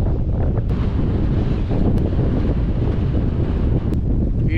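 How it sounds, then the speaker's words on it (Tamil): Strong wind blasting the microphone on the Dhanushkodi coast, a loud continuous roar with a low rumble of surf beneath, unbroken throughout. "இங்கே பாருங்கள் காற்று எப்படி வீசுது பாருங்க."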